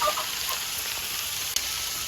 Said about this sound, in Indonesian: Saiki lomboknya digoreng dulu.